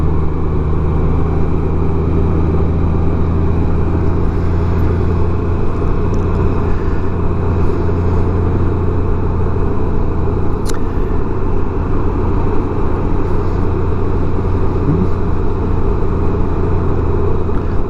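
Motorcycle engine rumbling steadily while riding, a loud continuous low drone mixed with wind noise, unbroken and close throughout.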